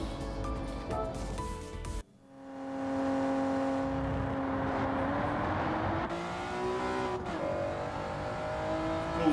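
A race car engine in the video game Gran Turismo 7 revs and holds a steady high whine, pitch rising and shifting through gear changes, loud and continuous with no talking.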